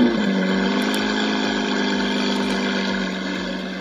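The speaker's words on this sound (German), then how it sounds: "dann hörten wir diesen Lamborghini-Geräusch, den Motor und wie sich das Board aufstellt" A Wheelheels Lamborghini Special Edition hoverboard gives off a loud, steady engine-like Lamborghini sound effect and motor hum, alone with no talk, holding even and easing off slightly toward the end.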